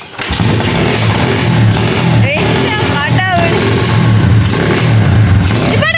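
A motorcycle engine starts and is revved repeatedly, loud and close, with rising and falling throttle bursts over a rumbling idle, while people talk over it.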